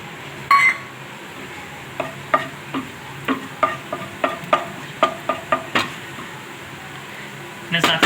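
Cumin seeds dropped into hot oil for tempering, a soft sizzle under a string of sharp clinks and taps from a spoon against the pan at an uneven rhythm, close and moderately quiet.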